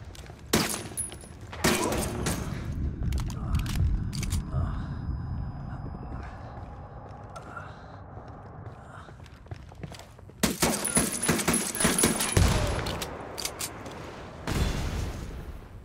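Gunfire cracks from inside a hacienda in the Ghost Recon Wildlands video game, with sharp bursts and clustered shots early and again later, separated by quieter stretches, while voices talk over the action.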